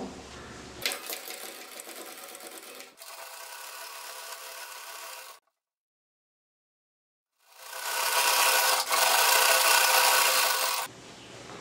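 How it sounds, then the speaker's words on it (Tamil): A sewing machine stitches a seam on a handbag in two runs, a steady buzzing whir broken by a silent pause, the second run louder and faster. "இங்கே ஒரு அமுக்கடி தையல் இப்படி போட்டுருவோம்"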